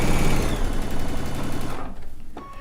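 Vintage Singer Featherweight sewing machine stitching at close range: a fast, steady mechanical chatter that runs loud for nearly two seconds, then stops abruptly, leaving a quieter tail with a light tap.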